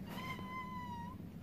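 A kitten in the video game Fallout 4 gives a single drawn-out, tonal meow that holds steady and then fades, faint and clear over a quiet low hum.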